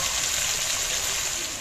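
Water poured into a pan of stuffed bitter gourds to make a light gravy, a steady hissing rush of liquid held close without a pause.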